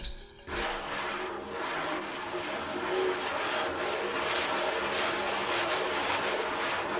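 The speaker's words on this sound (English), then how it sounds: "It's actually the hissing cockroach." A hissing cockroach gives a steady, breathy hiss that rises after a short thump and continues for several seconds, broadband and fairly close, with slight pulsing swells.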